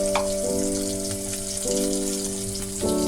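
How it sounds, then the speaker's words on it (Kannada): Chicken pepper dry frying in a pan with turmeric makes a steady, moderate sizzling hiss that runs throughout beneath a layer of background music, with no talking. "ಮತ್ತು ರುಚಿಗೆ ತಕ್ಕಷ್ಟು ಥರ ಆಗೋವರೆಗೂ ಫ್ರೈ ಮಾಡ್ಕೊಳ್ಳೋಣ"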